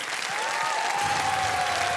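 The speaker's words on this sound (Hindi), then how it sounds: "जोरदार तालियां बज जाएं इनके लिए।" Thick, sustained applause from a television studio audience fills the whole moment at even volume, with a faint tonal musical note running through it.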